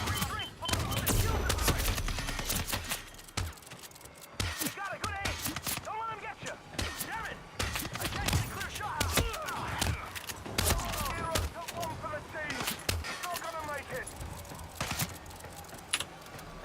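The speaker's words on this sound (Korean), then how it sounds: "샷건으로 3발이나 맞춰야 돼?" Shotgun blasts and other gunfire in a video game burst out at irregular intervals under someone talking, with clattering game effects in between.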